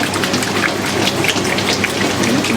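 Water splashes and rushes steadily inside a Whirlpool or Maytag direct-drive washing machine during the rinse, with its front panel removed; the sound is continuous, dense and fairly loud, with no talk.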